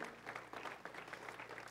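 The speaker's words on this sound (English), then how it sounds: "Would you give God a hand clap of praise?" A church congregation gives a hand clap of praise, a faint, distant burst of many hands clapping in a room with a low hum underneath.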